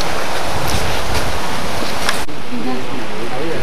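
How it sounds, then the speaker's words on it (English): Caño Cristales river in the La Macarena jungle of Colombia rushes with a loud, steady, close-up roar of flowing water, mixed with wind buffeting the microphone. "Beautiful river, the most beautiful river in the world."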